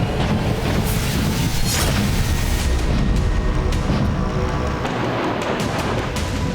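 Russian navy missiles launched at sea during naval exercises, a loud, sustained booming roar broken by several sharp blasts and rumbling surges, with no voices.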